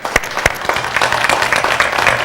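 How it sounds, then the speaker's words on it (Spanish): Audience applause at a Paraguayan harp and song tribute, dense clapping from a crowd with a few sharp, prominent claps standing out near the start, continuous and lively. "El aplauso."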